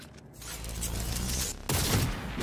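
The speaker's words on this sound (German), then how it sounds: "guck mal, das war ein Schuss." A sniper rifle fires in the video game Cyberpunk 2077. A single sharp shot bursts out midway through a steady, rumbling game soundscape.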